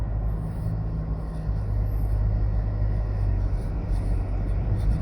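A car drives along the May Pen bypass in Jamaica, a steady low road rumble with faint engine hum and no talking.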